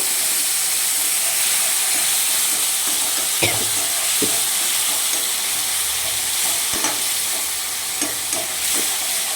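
Fish being stirred and braised in a frying pan, a steady loud sizzle and hiss throughout, with occasional scraping knocks of a spatula against the pan.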